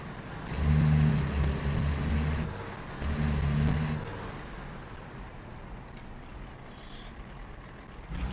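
Truck engine in American Truck Simulator, a steady low droning rumble that swells in two rising surges, then settles into quieter cruising drone, with no talk over it.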